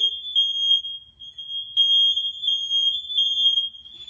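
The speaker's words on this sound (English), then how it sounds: "Please excuse my smoke detectors going off." A household smoke alarm, set off by cooking, sounds one steady, piercing high-pitched tone that continues unbroken throughout, loud and close.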